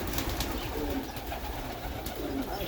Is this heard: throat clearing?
no